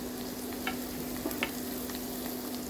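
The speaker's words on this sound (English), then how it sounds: "Let's fry also for a few seconds." Onion sizzles steadily as it fries in a pan, with a constant hum underneath and a few soft scrapes of stirring.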